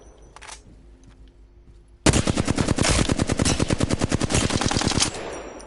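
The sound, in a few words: gunfire in the video game Apex Legends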